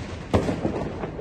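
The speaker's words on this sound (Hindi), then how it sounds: "ये देखिए हम पैराशूट उड़ा रहे हैं" Parachute firework launched during Diwali celebrations, a single sharp thump of the launch followed by a faint crackle and distant bangs in a noisy outdoor residential area.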